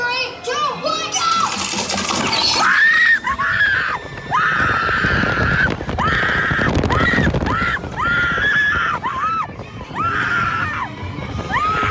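Riders yell and scream on the Incredicoaster roller coaster at Disneyland. Loud, sustained shrieks rise and fall over the rattling roar of the moving ride, close up and continuous.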